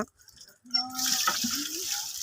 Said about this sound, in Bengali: আমার মিসেস এদিকে থালা বাসন মাজছে